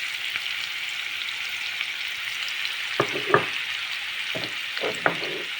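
Tomatoes frying in vegetable oil in a pan with spices, giving a steady close sizzle throughout, with a few louder crackles and stirring scrapes near the end.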